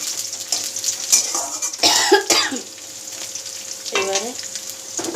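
Black cumin, garlic and green chilies sizzle in hot oil during home cooking. Bursts of frying and stirring come up close, with a cough in between.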